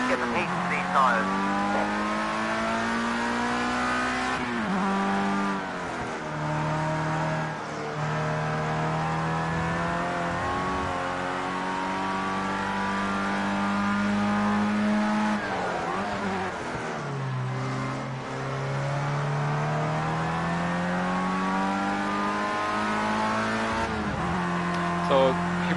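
Formula Rookie open-wheel race car in Project Cars 2 droning steadily through an outlap on a hilly track, engine pitch rising and falling through the gears, with a person talking over it throughout.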